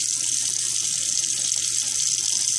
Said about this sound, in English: We just pull it out, rinse it off with a little water.